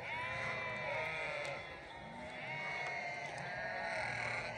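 Several lambs bleat in overlapping high, wavering cries, close by and persistent, with faint outdoor background.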